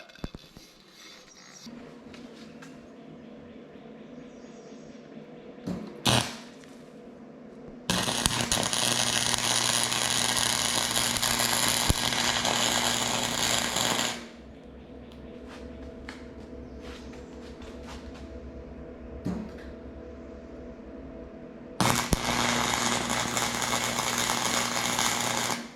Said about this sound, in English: So we're just going to go ahead and weld that.